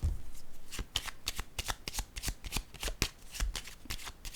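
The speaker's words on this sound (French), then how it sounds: "Je vais déposer une carte sur le militaire." Cards are handled close up on a table during a tarot-style card reading, giving a quick series of crisp slaps and riffles at an uneven rhythm, soft overall, with no talking.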